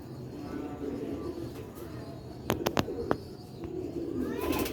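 Old-breed Sialkoti rooftop pigeons coo softly in a low continuous murmur, broken midway by a few sharp clicking knocks and faint chirps.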